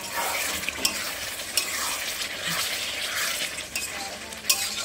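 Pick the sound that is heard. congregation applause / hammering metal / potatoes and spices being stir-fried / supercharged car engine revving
potatoes and spices being stir-fried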